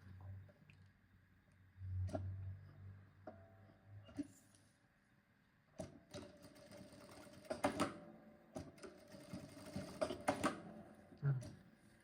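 A sewing machine stitches a safety seam on a baguette bag, with faint runs of rapid mechanical stitching broken by clicks and handling noises and pauses, fairly quiet and close.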